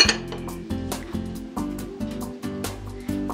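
A metal lid settles onto a pot of pickled poblano chiles with a series of close, ringing clinks and rattles that bounce several times before going still.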